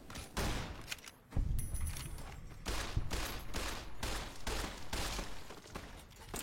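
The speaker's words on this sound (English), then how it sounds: "One more shot." Gunfire from a favored weapon in a shooter video game, with repeated loud shots cracking out in a rapid, uneven series of bursts close up, with no talking over it.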